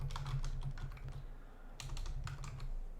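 Quick typing on a computer keyboard, with rapid clicky keystrokes in two short bursts separated by a brief pause, heard close over a low steady hum.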